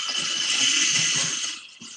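Water runs steadily from a tap while hands are washed, a close, continuous broadband hiss that thins out near the end.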